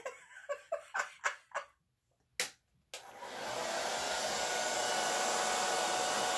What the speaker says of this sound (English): I guess my dryer is too powerful for that.